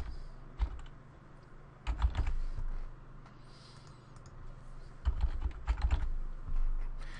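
Someone types a password on a computer keyboard in quick, soft bursts of key clicks separated by short pauses, close and quiet with no talk.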